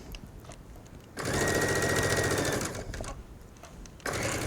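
A sewing machine stitches narrow twill tape onto a V-neck facing, running in two close, steady mechanical bursts with a rapid whirring rhythm and a short pause between them.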